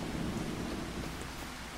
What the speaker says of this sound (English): maybe we can get it to stop raining.